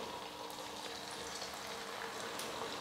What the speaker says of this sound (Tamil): இதே போல மீதி இருக்கிற எல்லா ரவையுமே நம்ம இந்த மாதிரி சின்ன சின்னதாக உருட்டி எண்ணெயில் போட்டு ஃப்ரை பண்ணி எடுத்துக்கலாம்